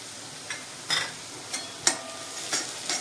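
Mutton being stirred with red chilli powder in a pan, a soft sizzle underneath with about six scraping strokes of a spoon at a steady, unhurried pace, near and fairly quiet.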